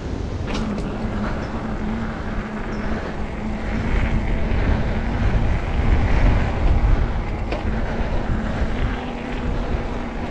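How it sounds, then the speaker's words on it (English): Steady wind buffets the microphone on a coastal mountain bike trail at Fiscalini Ranch near Big Sur, California, making a continuous low roaring rumble that swells slightly midway with no talk. "This wind will definitely wake you up."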